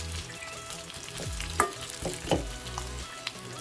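Raw plantain slices sautéing in a pan for a crispy vazhakkai fry, with a soft continuous sizzle broken by several distinct scrapes and clunks of a spatula being stirred.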